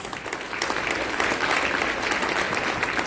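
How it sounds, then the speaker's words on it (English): Audience applause fills a gala dinner hall, a dense, steady clapping from a crowd that holds at full strength throughout without voices on top. "Please give her a big round of applause."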